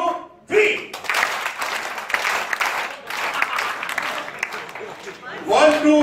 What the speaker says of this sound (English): Everybody remember the happy clap?